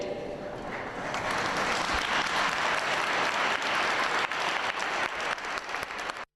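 Strong, continuous applause from a crowd greeting a Plast scouts' delegation speech at a Peace Light of Bethlehem ceremony, a dense, even patter that swells after the first second and stops abruptly at the end.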